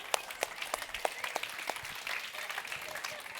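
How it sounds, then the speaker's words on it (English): Audience applause at a talk on changing money beliefs and making money matter, a moderate crowd clapping with sharp individual claps standing out early, fairly quiet and settling into a steady patter, with a voice audible over it. "give yourselves a round of applause"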